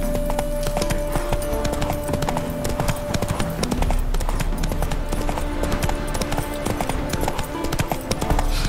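Roach the horse trotting in The Witcher 3: Blood and Wine, steady clip-clop hoofbeats running throughout, close and even, over a continuous music and ambient bed.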